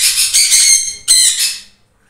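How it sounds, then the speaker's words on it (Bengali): A breeding pair of double red factor pineapple conures, one male and one female, giving loud shrill squawks close by in two bursts before falling silent. "এটা এক পেয়ার আমার ব্রিডিং পাইনঅ্যাপেল কুনো"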